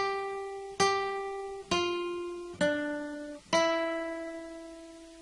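Four plucked guitar notes, the second half of the Jingle Bells verse, each struck cleanly and left to ring out in a slow, even rhythm, quiet and close with nothing else playing.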